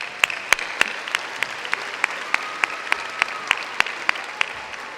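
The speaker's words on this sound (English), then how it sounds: "Let's give ourselves a round of applause." Graduates clap at a United High School graduation ceremony, heard as sparse, evenly spaced sharp claps over a hushed room, sounding like only a few hands nearby keeping a slow, regular beat.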